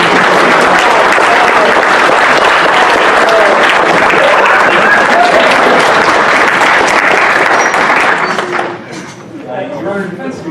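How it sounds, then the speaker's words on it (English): A crowd at an Anthrocon 2018 furry convention mock-trial event claps loudly and continuously, the dense applause filling most of the clip before thinning out near the end, with voices murmuring underneath. "let's give a huge round of applause for the guy that's been sitting"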